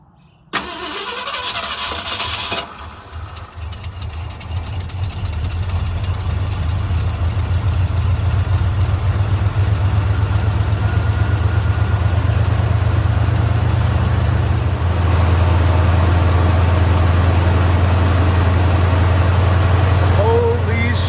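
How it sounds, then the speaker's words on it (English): A 1971 Ford F-250 with a 390FE V8 cranks briefly, catches and fires, then settles into a loud, steady high idle on choke that drops to a slightly lower idle near the end. "I'm gonna let that choke go into high idle, give it the full warm up."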